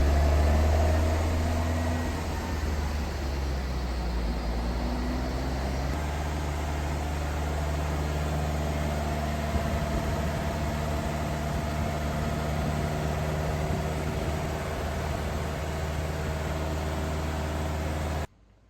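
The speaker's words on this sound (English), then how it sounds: "It's got a nice, different exhaust note." A car engine running hard on a dynamometer at a classic-car dyno day, its exhaust note a loud, steady, even drone that holds for the whole stretch before cutting off abruptly at the end.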